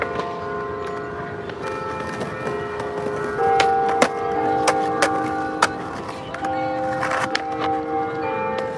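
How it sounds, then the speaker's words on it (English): A bell in San Francisco rings loudly and repeatedly at two o'clock, its clanging tones ringing on over outdoor background noise and occasional sharp skateboard taps. "that bell's pretty loud."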